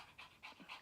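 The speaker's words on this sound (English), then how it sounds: "Oh, Harley, now you're really heavy breathing." A dog pants heavily after vigorous play, with three quick, breathy pulses in a steady rhythm, close by and fairly quiet, with no talking.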